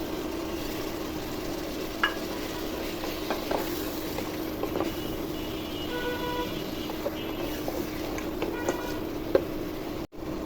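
Beef frying in a pan with bay leaf, cinnamon and about eight to ten cloves gives a steady low sizzle with occasional stirring clinks and scrapes, fairly quiet and continuous throughout.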